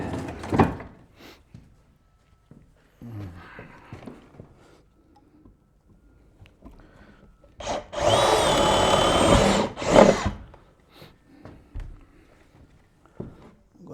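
A power drill whirs loudly for about two seconds, nearby, with scattered knocks and handling noises before and after.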